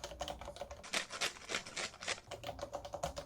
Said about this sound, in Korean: 흔히 토프레는 초콜릿 부러지는 소리가 난다고 하죠.